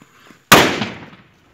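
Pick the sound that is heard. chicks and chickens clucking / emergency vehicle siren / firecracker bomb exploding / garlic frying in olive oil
firecracker bomb exploding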